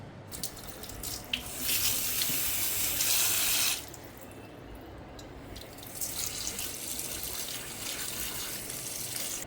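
Vegetables are rinsed under a running kitchen tap, with a strong gushing splash for a couple of seconds that then settles into a steady, close trickle of water into the sink.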